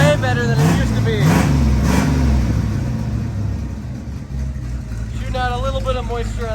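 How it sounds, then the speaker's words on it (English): A 1987 big block plow truck engine idles steadily just after start-up, running slightly rich, a continuous low rumble close by with a person talking over it. "Just started it up, and it's running maybe just a tiny bit rich"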